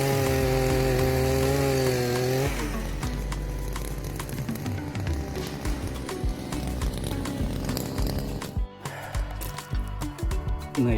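Powerful petrol earth auger drilling into soil to plant cocoa, a loud continuous engine drone that shifts in pitch as the bit bites into the ground, close and steady throughout with no talk over it.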